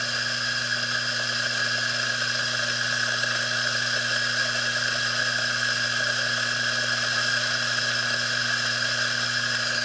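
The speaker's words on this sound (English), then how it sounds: "So let's just grind some coffee." Coffee grinder grinding Kona coffee beans on a farm, a steady droning motor whine with an even grinding hum throughout, close and alone with no talk.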